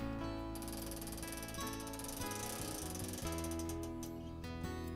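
Wooden quilting frame being adjusted after its clamps are taken off, with steady ratcheting clicks and geared mechanical rattles as the frame advances, close and continuous without talk.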